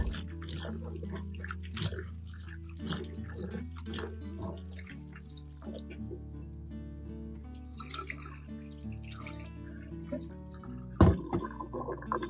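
Tap water runs steadily into a sink over onions being rinsed, a soft continuous splashing with small drips and a brief clatter near the end.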